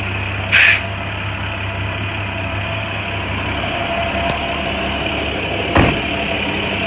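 A 2013 International 4400 dump truck idling with a steady mid-pitched diesel rumble, broken by two short sharp hissing bursts of air, one near the start and one near the end.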